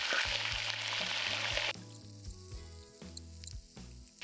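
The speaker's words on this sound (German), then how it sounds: "Jetzt kommen wir zu den Fleischstückchen. Die müssen jetzt erstmal angebraten werden." Pieces of rabbit meat sear over high heat in a Dutch oven: a loud, hissing sizzle that drops abruptly to a quieter crackle, with a low, uneven knocking underneath.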